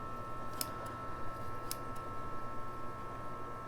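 Scissors snip through the root plug of a willow leaf fig in peat-type soil, giving two pairs of quick, crisp cuts over a faint steady background.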